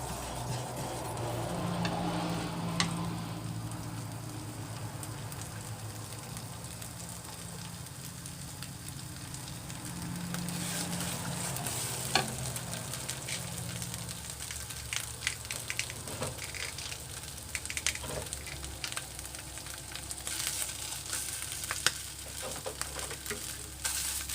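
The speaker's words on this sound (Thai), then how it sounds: "ใส่เครื่องแกงผัดให้หอมนะครับ ผัดให้หอม" Curry paste fries in oil in a wok for chicken khua kling, giving a steady crackling sizzle with bursts of spatula scraping and clatter that build in the second half.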